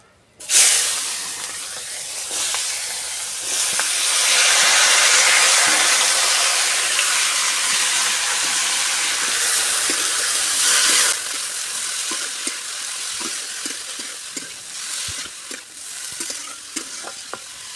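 Chopped radish, onion and chilli hit hot oil with a loud, close burst of sizzling that holds steady for several seconds, then eases into a quieter crackle broken by scattered clicks of stirring.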